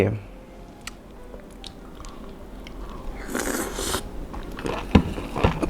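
Close, moist chewing of a jellyfish salad dipped in seafood sauce, with soft crunchy bites and a few sharper crunches toward the end over faint background noise.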